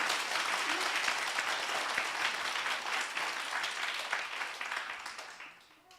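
A church audience at a Korean-Japanese Holy Spirit gathering applauds in a steady, dense wash of clapping that holds for several seconds and then fades out near the end.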